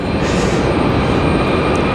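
A black and yellow Spirit Airlines plane at Raleigh-Durham airport gives a loud, continuous engine roar and rumble, steady throughout with no pauses.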